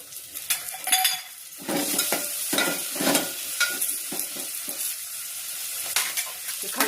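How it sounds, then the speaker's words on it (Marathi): Whole spices and chili roast in a dry pan, stirred with a utensil: a steady sizzle and crackle with repeated scraping strokes and light metallic clinks, close and without talk. "खडा मसाला टाकते आता भाजायला।"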